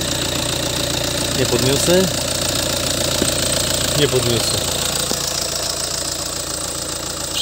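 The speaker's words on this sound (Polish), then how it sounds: "Motor terkoce pięknie." A 2018 Skoda Superb 2.0 diesel engine idles with a steady rough chug throughout, while someone speaks briefly over it.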